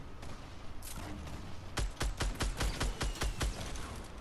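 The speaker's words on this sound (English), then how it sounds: "I sniped him." Gunfire rings out during a Fortnite Battle Royale match, including a sniper rifle shot: a rapid, evenly spaced string of about eight sharp, punchy reports follows a few quieter cracks.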